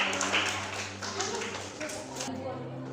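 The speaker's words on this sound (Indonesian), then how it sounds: "tepuk tangan buat kelompok 3" Students in a classroom clap for a group after its presentation, a brief burst of scattered hand claps with a teacher's voice talking over them.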